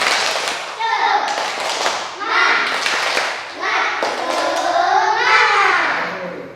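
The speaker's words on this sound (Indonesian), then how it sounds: "Tepuk semangat." An elementary school class does a rhythmic spirit clap, children's voices chanting loudly together over patterned hand claps and taps, close and energetic throughout.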